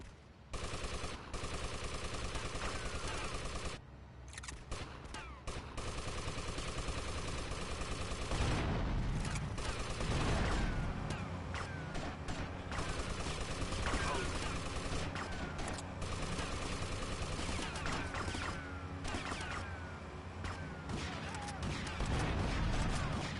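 Shotgun and other gunfire crackle through GTA Vice City on the PS2, with dense overlapping shots and game noise over a long stretch.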